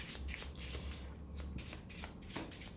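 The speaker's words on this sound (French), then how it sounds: "On remélange." A deck of cards being shuffled during a board game, a short, close riffle of crisp, rapid flutters with no talking.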